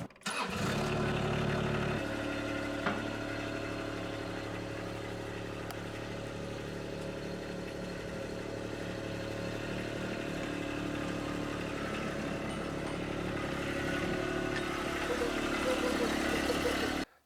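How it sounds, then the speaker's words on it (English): A small rented mini skid steer on a land-clearing job cranks and catches, then runs steadily at a loud, continuous engine drone for the rest of the stretch, no voices present. "a mini skid steer."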